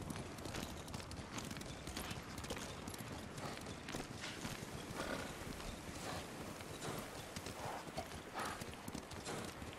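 Horse hooves clip-clopping steadily in the video game Ghost of Tsushima, a dense continuous gallop of rapid hoofbeats close by, filling the whole stretch with no talk.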